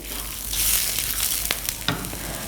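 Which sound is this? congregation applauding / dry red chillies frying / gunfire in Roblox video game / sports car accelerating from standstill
dry red chillies frying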